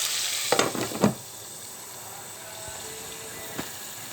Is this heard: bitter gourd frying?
yes